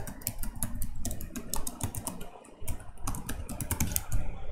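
Close, continuous typing on a computer keyboard, with dense clattering keystrokes in quick irregular bursts and a short pause midway, with no voices.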